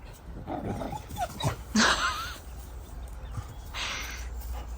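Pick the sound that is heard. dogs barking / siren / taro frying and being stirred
dogs barking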